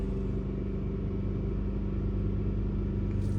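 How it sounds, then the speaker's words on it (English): A Kia Sorento engine holds a steady high idle around 2500 to 3000 rpm, a loud, even, close-up rumble with no clear rev spikes. "So right now it's idle, so I'm gonna tap the gas a couple times."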